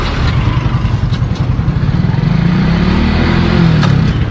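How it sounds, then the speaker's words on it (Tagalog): A motorcycle engine, after a crash that threw its chain, runs loud and close with a rough, throbbing idle that rises slightly in pitch as it is revved through the gears. "i-start mo ulit yung makina. Paandarin mo hanggang 4th gear."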